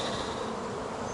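Honey bees buzz in a dense, continuous hum while being transferred into a Flow Hive, close and steady over the whole moment with no voices.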